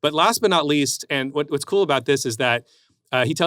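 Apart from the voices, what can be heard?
No distinct noise like a dog, phone or traffic.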